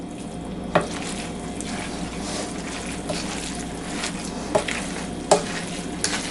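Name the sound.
stirring spaghetti in a pan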